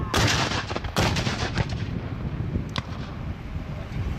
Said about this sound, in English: Attention battery! Firing 5 feet from the left, 2-second intervals.